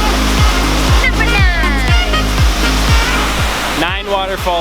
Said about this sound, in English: Going to the last waterfall now.